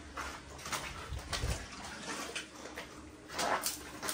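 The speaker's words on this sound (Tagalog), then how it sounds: "Paliguan lang natin itong baboy na binili." A pig bought for a fiesta is washed down with running water, a steady faint splashing and gushing with brief surges, no talk.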